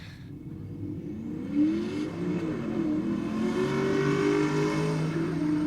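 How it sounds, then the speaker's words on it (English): A Datsun car doing a burnout at Sydney Dragway revs hard and holds at high pitch, with a rising roar and a whining drone of tires spinning in place. "A little Datto down in the burnout box."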